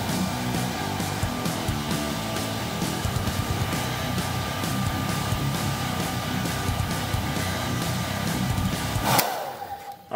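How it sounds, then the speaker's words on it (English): White handheld hair dryer blowing hot air onto an action figure, a loud continuous whirring hiss that runs steadily for about nine seconds, then cuts off abruptly. "White trusty hairdryer for the win."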